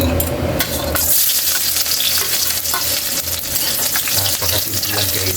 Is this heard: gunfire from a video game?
no